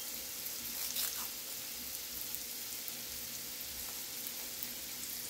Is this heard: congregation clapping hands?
no